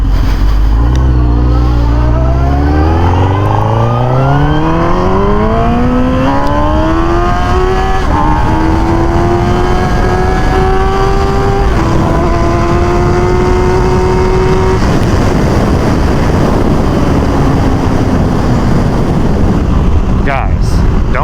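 Suzuki GSX-R motorcycle engine on an open road, revving hard and loud as it climbs through several rising gear pulls with shifts, then easing off, with steady wind rush throughout.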